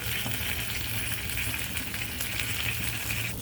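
Leaves frying in oil for a homemade baby cold and cough remedy, a close, steady crackling sizzle that continues without pause.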